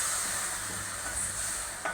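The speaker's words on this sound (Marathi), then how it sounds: "आता आपण याच्यात थोडंसं पाणी ॲड करूया." Water poured into a pan of well-fried masala while making Kokani mutton rasa, giving a steady loud hiss and sizzle through the whole moment, then a brief splash near the end.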